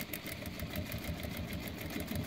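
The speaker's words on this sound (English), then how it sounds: "We'll do a straight stitch and then we'll just reverse the whole thing." A Juki DDL-8700H industrial sewing machine runs a straight stitch through a dog collar, a rapid, even mechanical hum and patter, close and steady without talk.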